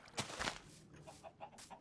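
Chickens clucking in the Minecraft video game, a few short soft clucks repeating at a modest distance, with a brief louder rustle near the start.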